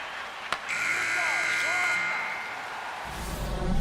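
In the NHL 26 hockey video game, a long electronic end-of-period buzzer sounds for about a second and a half over arena crowd noise, with a commentator's voice following.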